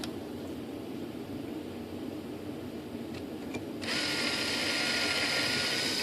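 Power drill boring a hole for the flaps of a 2.6 m composite ASH26 sailplane model, a steady broadband whir that rises and brightens partway through and holds to the end, close and with no talk.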